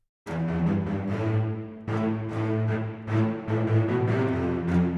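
Sampled orchestral strings from the Berlin Strings library play fast staccato runs and ostinato figures, with bright, bowed attacks repeating in quick succession and a resonant body, heard alone without talk.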